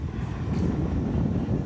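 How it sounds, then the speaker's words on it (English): An American airliner lands near DCA beside the Potomac River, a continuous broad roaring rumble of jet engines with some wind buffeting on the microphone. "There's the plane."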